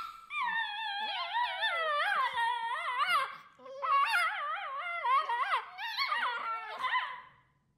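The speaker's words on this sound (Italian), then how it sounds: "partendo con dei levrieri italiani con, diciamo, delle sciarpe in pelliccia" Italian greyhounds in fur scarves howl and whine in long, wavering, yodel-like calls, several dogs overlapping in two sustained bursts with a short break between, close and clear.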